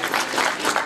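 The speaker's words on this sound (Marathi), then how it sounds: "टाळ्याच्या गजरामध्ये सर्वांनी एकदा टाळ्या जोरदार होऊन जाऊ द्या।" An audience at a school batch get-together applauds steadily, dense clapping filling the whole second at close range with a few swells in loudness.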